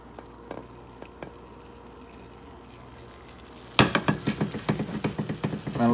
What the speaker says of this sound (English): You can see it sizzling down there